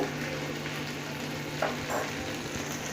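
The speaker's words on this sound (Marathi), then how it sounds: "आणि चांगलं असं खरपूस असं दोन्ही साईडनी भाजून घ्यायचे" Paneer tikka pieces roasting over medium heat on a small green pan, a soft steady sizzle close by with a couple of brief louder crackles as pieces are moved.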